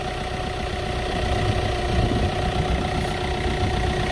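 A car engine idles at a steady, even rumble with a constant low hum and faint vibration, close and unchanging throughout, no voices.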